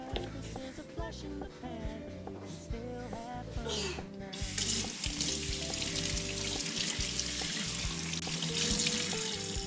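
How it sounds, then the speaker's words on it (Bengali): Running tap water splashes as carrots, cucumbers and tomatoes are rinsed in a kitchen sink. The flow is steady and grows louder partway through, with background music or other sounds layered underneath. "গাজর শসা টমেটো এগুলো ধুয়ে নিলাম।"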